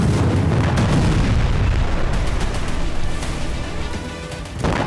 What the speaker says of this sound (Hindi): ईरान के बेस पर बड़ा धमाका